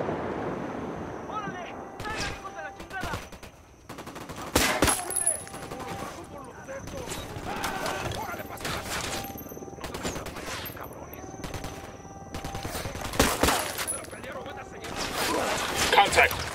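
Rapid gunfire and bursts of automatic weapons crackle in the Ghost Recon Wildlands video game, loud and near, in repeated volleys with voices talking over the shooting.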